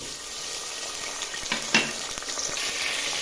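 Tomatoes drop into hot oil in a pot and fry with a steady, soft sizzle, broken by a few brief clatters of stirring near the middle.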